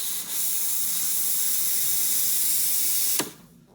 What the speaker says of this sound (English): use this wand right here to steam your milk